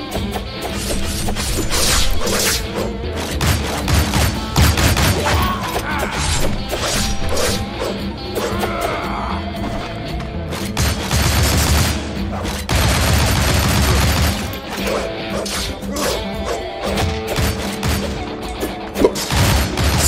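Rapid gunfire from the side-scrolling action game Shank, with bursts of shots, crashes and impacts packed densely over a loud, continuous game soundtrack throughout.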